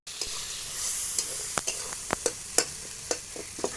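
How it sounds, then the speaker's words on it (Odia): Tempering for ambila, an Odia sour curry, sizzles loudly in hot oil, a constant frying hiss broken by scattered sharp clicks and stirring knocks from a utensil against the pot. "ଆମର ଏବେ ଆମ୍ବିଳା ଛୁଙ୍କ ଦିଆ ହଉଛି ପୁରା ହେଇଛି।"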